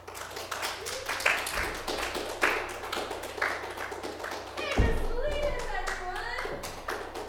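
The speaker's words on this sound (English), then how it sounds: "Give it up for Ellie." Scattered clapping from a small audience after a late-night stand-up comedy set, uneven hand claps and taps mixed with chatter and voices, with a louder burst partway through.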